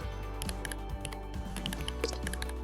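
Typing on a computer keyboard while setting up a Python file, a steady run of close, crisp key clicks with irregular rhythm and no talk over it.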